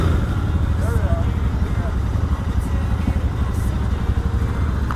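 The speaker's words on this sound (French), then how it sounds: "J'aime beaucoup la sonorité de ce petit 650 là." Royal Enfield Bear 650 twin-cylinder motorcycle engine running steadily at close range, a continuous low throbbing rumble with slight rev fluctuations throughout.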